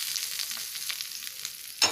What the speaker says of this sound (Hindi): उसमें थोड़ा सा राई, जीरा और हींग इसका तड़का लगाया